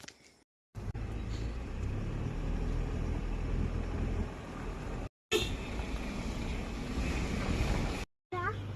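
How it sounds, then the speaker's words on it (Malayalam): A power station gives off a continuous loud roar like strong wind or falling water, heard close, with brief silent breaks where the sound cuts out. "അതിൻ്റെ ഭയങ്കര കാറ്റടിക്കുന്നയോ വെള്ളം വീഴുന്ന പോലത്തെ ഒക്കെ സൗണ്ടാണ് കേൾക്കുന്നത്"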